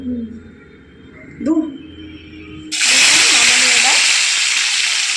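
Eggplant and beans are dropped into hot oil for a light fry, setting off a sudden loud, steady sizzle that fills the rest of the moment after quieter kitchen noise and a voice.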